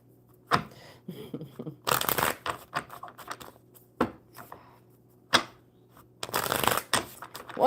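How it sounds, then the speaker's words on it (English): Bursts of cards being shuffled, riffled in quick rattling runs separated by short pauses, close and fairly loud. "If I can shuffle them properly."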